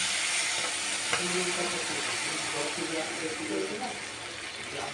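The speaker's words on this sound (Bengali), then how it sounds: "এখন আমি এখানে পরিমাণ মতো জল দিয়ে দেবো" Small fish in a well-fried spice masala sizzle steadily and loudly as a little water is poured into the pan, with a continuous close hiss and faint spatula movements throughout.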